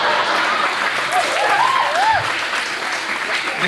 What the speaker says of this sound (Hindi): नहीं, इस बात पे ताली नहीं बजानी थी।